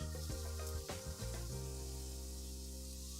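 Onions and garlic sizzle steadily in a hot pan while a tomato sauce is started for a Detroit-style pizza, a continuous close hiss with a few brief clatters at the start.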